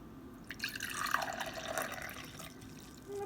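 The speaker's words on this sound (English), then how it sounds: "I'm gonna pour some of that water in." Water poured from a container into a glass in a floating-liquids experiment, a short trickling splash with dripping and filling tones that swell and fade over a few seconds, no voices.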